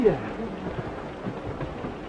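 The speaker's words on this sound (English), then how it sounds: "I'm getting out of the storm" Steady rain pours through a storm with low thunder rumbling underneath, a continuous wash of noise that holds at an even level for the whole stretch.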